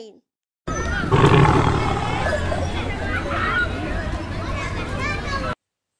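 A tiger's roar rises loud and close over a background hubbub of crowd babble, lasting several seconds before cutting off.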